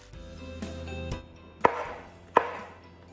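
A knife chops through frozen baby spinach, two sharp, crunchy cuts on a board about a second apart, clear and close, after a duller thud.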